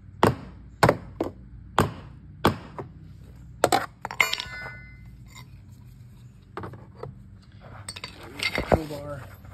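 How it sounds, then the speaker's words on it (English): Several sharp, hard taps strike an exterior door threshold at irregular intervals, close and distinct, with a few lighter clinks in between. "I'm gonna kind of give this a couple taps"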